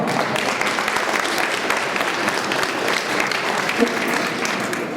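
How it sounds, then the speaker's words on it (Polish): Crowd applause at a lottery prize presentation outside a shop, a dense steady clapping from many hands at close range lasting the whole stretch. "Jeszcze raz brawa."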